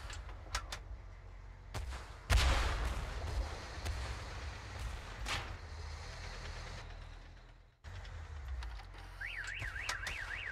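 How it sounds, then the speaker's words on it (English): Car alarm in the Tank Force video game, its warbling siren rising and falling in a regular pattern near the end, following bursts of gunfire and rumbling engine noise. "again, that's the alarm of a car."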